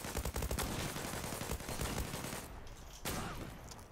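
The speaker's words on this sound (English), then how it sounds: "Point blank shot, sniper rifle." Heavy gunfire in the video game Zula, a rapid fusillade of overlapping shots that thins briefly before another sharp report, loud and continuous throughout.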